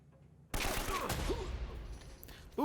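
Gunfire bursts out suddenly in Uncharted: Drake's Fortune, a loud, dense fusillade following a quiet lead-in and continuing for about two seconds, with a brief voice sounding over the shooting.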